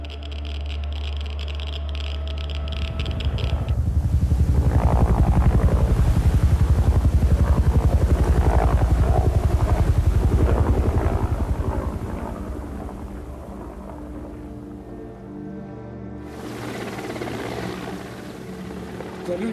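Helicopters fly over Chernobyl in archive footage from the disaster response, a deep rotor roar swelling loud in the middle and then easing to a lower rumble.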